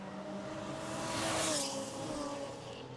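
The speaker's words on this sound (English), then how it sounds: "The Golf's a flying machine on the straights." A Volkswagen Golf race car at an ICCR circuit race swells past on the main straight, its engine note rising to a peak around mid-clip then fading, with steady broadband track noise throughout.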